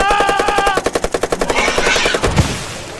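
Rapid machine-gun fire from soldiers in a Filipino horror audio drama, a fast burst of sharp evenly spaced shots, close and loud, trailing into a rumbling echo.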